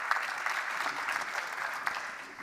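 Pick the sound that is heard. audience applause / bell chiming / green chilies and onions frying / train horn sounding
audience applause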